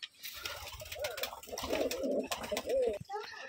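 Young pigeons of the Rajshahi flying breed coo softly at a loft, with repeated low throaty calls in overlapping phrases, faint and fairly close.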